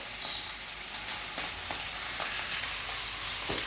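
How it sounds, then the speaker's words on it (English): A rösti of grated potato fries in a pan with a dense, even sizzle that stays loud and constant. A few faint clicks from the pan break through. "while the Rösti is fried"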